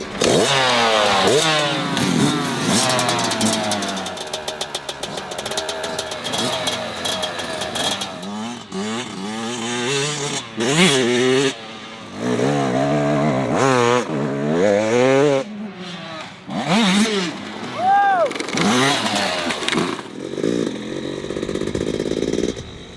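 Yamaha 2024 two-stroke cross-country off-road motorcycles ridden on a trail, their engines buzzing and revving up and down in pitch with loud, rising and falling throttle bursts that continue throughout, with brief breaks.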